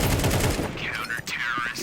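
Gunfire in a Counter-Strike match: a rapid burst of sharp shots crackles up front, then fades into softer game effects and whooshing sweeps.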